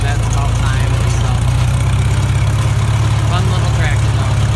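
A 1944 McCormick Deering O4 all-fuel orchard tractor idles nearby, a steady low, even engine throb running throughout with no change in pace.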